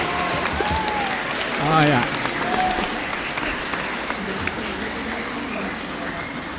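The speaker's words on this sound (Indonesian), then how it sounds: "Tepuk tangan untuk mereka." A church congregation applauds during a Catholic service with a steady wash of moderate clapping. Voices and a brief exclamation rise over it.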